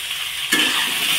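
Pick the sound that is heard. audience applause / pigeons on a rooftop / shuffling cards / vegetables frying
vegetables frying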